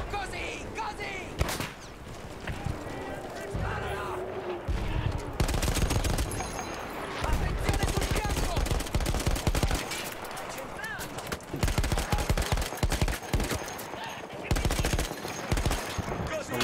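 Rapid bursts of gunfire and machine-gun fusillades in the Battlefield 1 campaign, loud and repeated throughout, with a voice speaking at points between the shots.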